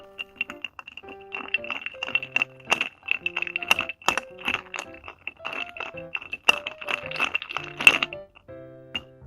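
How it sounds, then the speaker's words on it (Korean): A whisky cocktail made with Grant's Triple Wood, tequila and Peychaud's bitters is stirred over ice, giving rapid, irregular glassy clinks and cracks of ice against the glass, close and crisp, with no talking. "스터 해주시고요."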